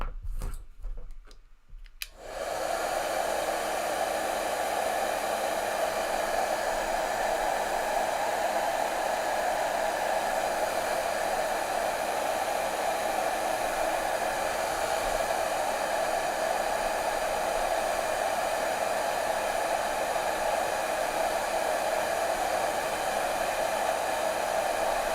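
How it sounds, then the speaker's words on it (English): A heat gun shrinks heat-shrink tubing on an adapter wire. After a brief clicking start, it blows a steady, close hiss that lasts for over twenty seconds without a break. "Okay, I'm just gonna heat shrink this."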